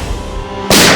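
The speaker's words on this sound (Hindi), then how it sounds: "ये क्या गोली चलने की आवाज है?" A single sudden, loud gunshot-like blast erupts after a stretch of low room noise and carries on as a sustained roar, heard from a residential neighbourhood setting with no talk.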